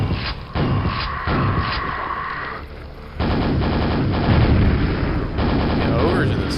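Repeated grenade blasts from ogres in Quake, heavy booming bursts stacked over a dense, continuous wash of game noise with no quiet gaps between them.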